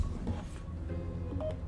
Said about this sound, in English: That's my alarm to take pills.